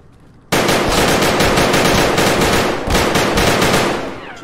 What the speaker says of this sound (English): Are you shooting a guy with an AK?